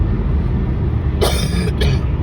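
Two short coughs sound close by, one after the other, over a steady low outdoor rumble near a glass-floored lookout bridge.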